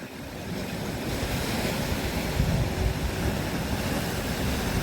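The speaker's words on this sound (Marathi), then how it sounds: "या साईडला आहेत रे लाटा." Steady roar of ocean surf beside a coastal road, with wind rushing across the microphone, continuous and fairly loud, waves washing in without pause.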